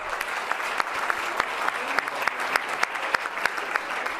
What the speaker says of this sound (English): let's give them all a round of applause for that